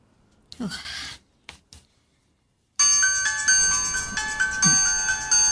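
Cellphone ringtone in an Ilocano drama, a loud melodic electronic tune starting abruptly after brief quiet talk and repeating steadily.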